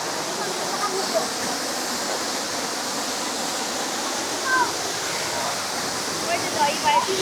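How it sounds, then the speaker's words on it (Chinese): A mountain waterfall on a hiking trail in Hunan roars steadily and broadly, a constant rushing wash of water, with a few faint bird chirps over it. "这里又是瀑布"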